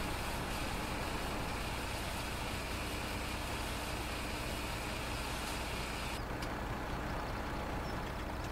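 Farming Simulator 17 gameplay as a truck is overloaded with crop from an Annaburger HTS 29 trailer, carrying a steady loud droning engine rumble with a flowing grain hiss that shifts and thins partway through; no voices.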